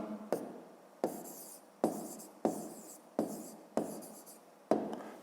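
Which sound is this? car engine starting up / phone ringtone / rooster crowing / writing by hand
writing by hand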